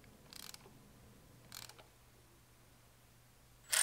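A ratchet wrench tightens bolts on a Ram Promaster City engine, two quick clicking bursts spaced about a second apart, faint and close, followed by a louder burst at the very end over a quiet background.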